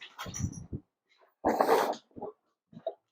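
Puppies let out of the house on a cold day give a few short bursts of snorting, sniffing and breathy dog noises, close by, separated by brief silences.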